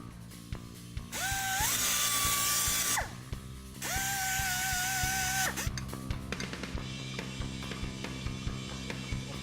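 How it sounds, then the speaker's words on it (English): A power drill whines in two long sustained bursts while reaming out a hole in a car part on a Yenko build, with ratcheting clicks and mechanical clatter between and after the runs. "So we're going to clean the hole out a little bit, then it should go right in."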